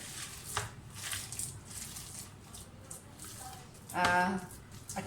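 Minced chicken is worked together with spices by hand for kebabs, giving soft, wet squishing and slapping sounds at close range, with one louder squelch near the end.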